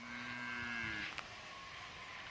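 A Charolais cow, a mother with her calf, gives one clear, fairly close moo that fades after about a second, leaving only low farmyard rustling.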